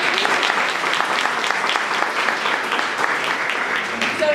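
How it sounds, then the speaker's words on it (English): Sustained applause from an audience at an evening anniversary reception for a community fund, steady dense clapping filling the whole stretch. "let's do another round of applause for that"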